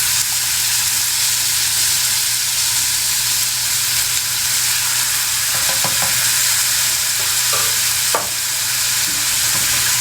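Buffalo chicken sizzling with buffalo sauce in a hot pan, a loud continuous fry and hiss with a few scraping clicks of a utensil stirring near the end, no voices.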